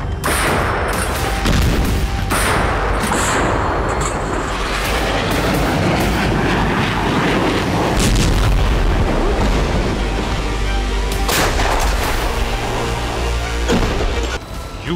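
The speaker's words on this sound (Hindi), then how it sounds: "धमाकों से कांपती जमीन" Battlefield explosions and artillery fire from the Russia-Ukraine war, a dense, loud barrage of booms and sharp blasts with almost no pause between them.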